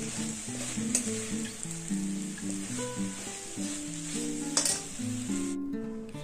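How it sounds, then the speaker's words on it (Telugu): Tomato, onion, curry leaves, dried red chillies and tamarind fry in a pan for a Telugu-style drumstick leaf chutney, giving a steady close sizzle with scraping stirs and a couple of sharp clinks. "ఇందులో మనము టమాటా, ఆనియన్, కరివేపాకు, ఎండుమిర్చి, చింతపండు బాగా వేయించుకోవాలి."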